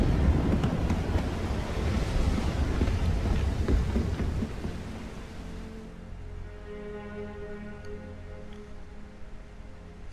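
Thunderstorm at sea in the Assassin's Creed IV video game: heavy rain and wind roar with low rumbling for several seconds, then easing into a quieter scene with a sustained musical tone.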